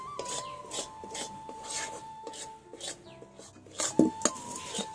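Milk kheer for gujiya sandesh stirred continuously in a pan, heard as a steady run of soft rhythmic scraping strokes under a faint hum, ending with a couple of sharper scrapes and knocks.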